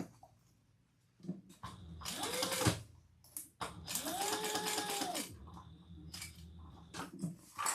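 A sewing machine stitches liner fabric in two loud bursts of rapid whirring, the second longer, separated by brief pauses and soft clicks in an otherwise quiet room.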